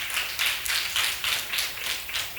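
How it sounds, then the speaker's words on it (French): Audience applause at a French talk-show event, a rhythmic burst of clapping from a small group, fairly close and even throughout. "Sous vos applaudissements, s'il vous plaît."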